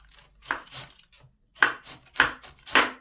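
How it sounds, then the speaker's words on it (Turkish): Sharp, quick knife chops on a cutting board as herbs are finely chopped, coming in irregular bursts with short pauses, close and crisp with no talking. "Diblemizi yapmaya doğrayarak başlayacağız."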